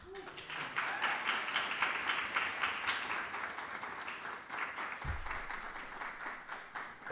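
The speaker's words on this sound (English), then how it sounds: "don't stop the applause" Audience claps after an undergraduate poetry reading at an open mic, a moderate, continuous patter of hands lasting several seconds, with faint voices and a low thump midway.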